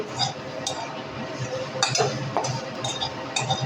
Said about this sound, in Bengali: চিনিটা দিয়েও আমি নেড়ে দেব।